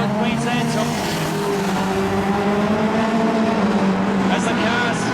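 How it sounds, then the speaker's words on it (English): Speedway race cars at Carina Speedway, National 4's class in a Queensland title main event, roaring loudly down the straight in a dense, sustained engine drone with a commentator talking over it. "As the cars make their way down the back straight away."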